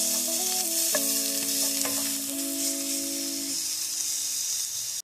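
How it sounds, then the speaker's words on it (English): Minced garlic sautéing in a pan for a Cajun beef spaghetti, a close, steady hissing sizzle with a few stir clicks, under a tonal hum that fades out, no talking. "Saute that for 1 minute."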